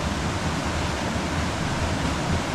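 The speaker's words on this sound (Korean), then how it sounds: "이 폭포 이 기포들이 너무 많아가지고 이런 데는 들어가면은 어, 와류 현상이" Churning mountain-valley waterfall whipping water into bubbles, a dense, continuous close rushing roar with no pauses and no voices.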